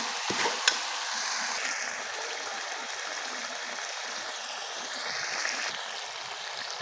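Chicken, peas and potatoes fry in a pan with black pepper and cloves added, giving a steady, moderately quiet sizzle with occasional stirring scrapes throughout.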